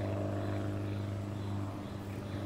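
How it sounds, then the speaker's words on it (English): De Havilland Beaver floatplane flying over bear country, a steady droning propeller engine hum, faint and distant, holding constant. "It's a de Havilland Beaver. It's red."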